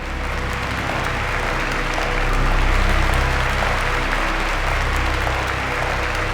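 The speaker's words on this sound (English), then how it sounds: "There's something sarcastic about that dude's clapping." Steady clapping from a single character in the video game Virginia fills the scene, loud and continuous and swelling slightly midway, with no talk over it.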